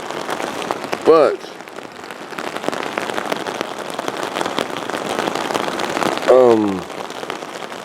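Steady close patter of rain falling on the fabric of an Outdoor Research Advanced Bivi during a storm, continuous throughout, with someone speaking briefly and a couple of short louder sweeping noises.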